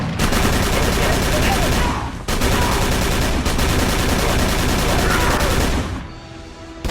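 Sustained automatic gunfire from the horror shooter Call of Cthulhu: Dark Corners of the Earth, a loud dense barrage of rapid shots running almost continuously with one brief break, then cutting out near the end.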